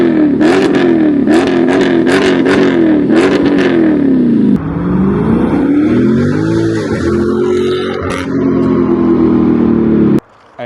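Stock exhaust on a 2023 Dodge Charger revving hard in quick repeated blips, then settling into a long rise and fall of engine pitch. It is loud and close, with no voices.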